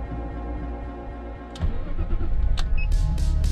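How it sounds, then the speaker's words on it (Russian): A car engine cold-starts up close: a short crank, then it catches with a sudden loud rise and settles into a steady, rough, rumbling idle. "Так, ну что, это холодный запуск."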